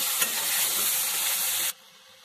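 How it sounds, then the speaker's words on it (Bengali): Cherries with salt and turmeric fry in a pan, giving a close, steady sizzle with one soft stirring scrape near the start. The sizzle drops away sharply just before the end, and no voice is heard. "পরিমাণ মতো নুন গুঁড়ো দিয়ে দেব, হলুদ দিয়ে এইভাবে একটু নাড়িয়ে নেব হালকা।"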